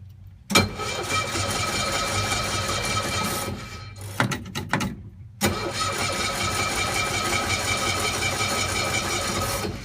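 A 1965 Cushman Truckster two-cylinder engine cranks and catches, revs loudly, briefly stumbles and sputters mid-way, then restarts and settles into a steady, close, rattling run.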